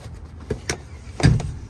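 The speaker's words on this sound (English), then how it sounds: "I'm going to simply take this lever, push that up like that" Rear seat lever of a Nissan Armada pulled and the seat raised, producing a few close plastic clunks and clicks and then a heavier thump near the end.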